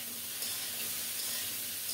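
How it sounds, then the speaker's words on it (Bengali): Cauliflower and flat beans sauté in a pan for a healthy Ekadashi meal, giving a steady, faint, even sizzle and hiss with no voices. "সিম দিয়ে আরও একটু কষিয়ে নেব কিছুক্ষণ।"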